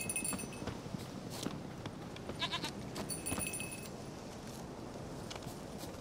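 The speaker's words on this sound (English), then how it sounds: "Damned goats." Goats bleating in the Witcher 3 video game, a few short bleats over continuous background noise and footstep-like clatter, moderately close with no talk.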